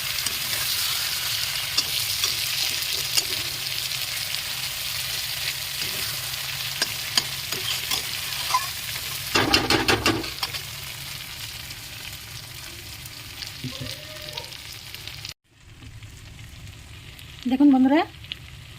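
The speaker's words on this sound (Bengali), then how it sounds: "এবার একটু নাড়িয়ে নেব দেখুন এরকম করে" Prawns fry with split green chillies in a pan for Bengali prawn malai curry, giving a steady sizzle and occasional stirring scrapes for about fifteen seconds before a quieter stretch with a brief clatter near the end.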